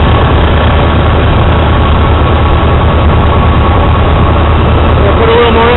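A car engine idles steadily with the air-conditioning compressor engaged during an R290 propane recharge, a continuous low rumble and hum running unbroken from start to finish, fairly loud and close.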